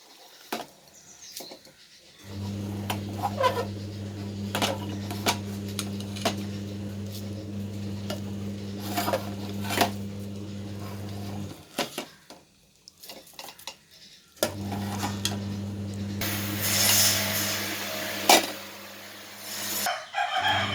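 A spoon stirs boiled, mashed green gram in a pot, heard as repeated scraping and clinking of utensils over a steady low hum, with a short pause partway through.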